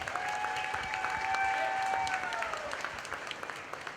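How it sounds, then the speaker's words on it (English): A fairground crowd claps for the fair board at a 4-H and FFA market hog show, a sustained dense round of applause under a faint tonal hum, holding steady and thinning near the end. "So give the fair board a nice round of applause."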